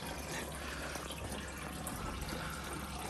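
Coolant drains steadily out of an Austin Maestro engine, a constant soft rush and splatter of liquid that goes on without a break, faint and without talking.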